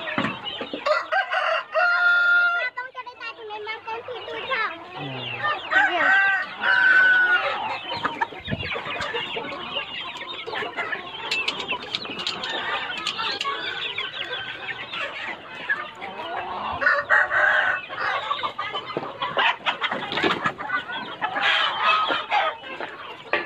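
Chickens cluck and a rooster crows during evening feeding on a farm. The birds are close and loud for the whole stretch, with overlapping calls and no voices.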